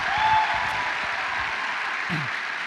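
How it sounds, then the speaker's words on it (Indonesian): University students in an auditorium give a round of applause during a talk show taping, a dense, steady clatter of clapping from a large audience, with a faint whistle-like tone early on. "tepuk tangan sekali lagi untuk kita semua"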